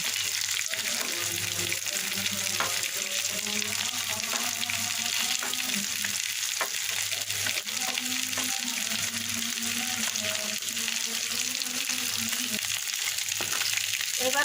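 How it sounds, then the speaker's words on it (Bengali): Green chilies and chopped onion frying in oil in a pan, with a steady hissing sizzle and occasional stirring clicks, moderately quiet and continuous throughout. "একটু কাঁচা মরিচ দিয়ে দিলাম একটু বাদামি করে ভেজে মাছের সঙ্গে মিশিয়ে দেবো"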